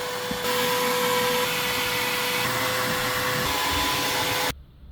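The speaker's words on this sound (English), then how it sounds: "So first on our interior detail list is a full vacuum." Steady, loud vacuum cleaner drone running continuously close by, with a high whine on top, cutting off abruptly near the end.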